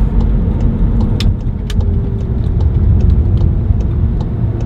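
A Volkswagen Mk7 GTI with chassis bracing drives steadily through a tight U-turn, its engine giving a loud, continuous low drone heard from inside the cabin, with a few light clicks and no talking.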